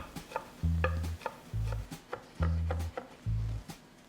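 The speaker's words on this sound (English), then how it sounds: "Begin by chopping the zucchini" Zucchini is chopped for savory tofu and tuna pancakes: a steady run of crisp, close chopping taps, about two or three per second, over a low droning background.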